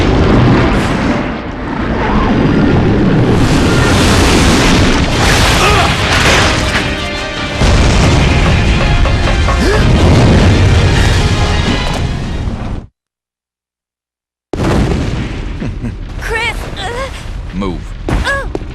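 Loud, dense bursts of gunfire and booming impacts from Resident Evil Code: Veronica X fill the scene almost continuously, mixed with game music and effects, then cut to a brief silence before sharper crashes and a voice resume.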